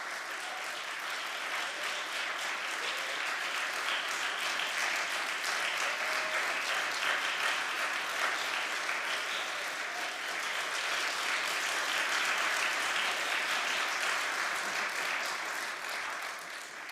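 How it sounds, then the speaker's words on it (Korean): A concert-hall audience at a Korean traditional music (pansori) lecture-performance at the National Gugak Center applauds steadily and warmly for the whole stretch, a dense even wash of clapping with no talk over it. "여러분 뜨거운 박수로 예이츠 교수 맞이해 주시면 고맙겠습니다."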